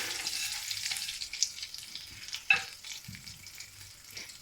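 Dried coconut roasting in a little desi ghee in a pan while being stirred, giving a steady soft sizzle with occasional scraping clicks. No one talks.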